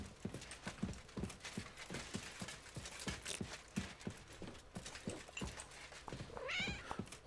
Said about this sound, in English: I heard a cat and seen something dart across my head.